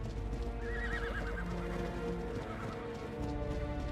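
In the video game ARK, a horse gives a clear whinny over the soft clopping of hooves, with a second shorter neigh following, all fairly quiet and without talk.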